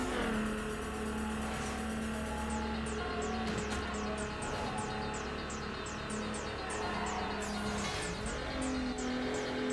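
Race car engine in the video game Need for Speed Underground, a loud continuous buzzing drone that climbs in pitch through gear changes, with brief tire squeal and no talk.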